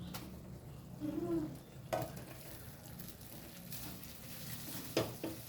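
Quiet stirring and scraping of rice into chicken fried rice in a pan, with occasional utensil clinks against the metal over a faint sizzle.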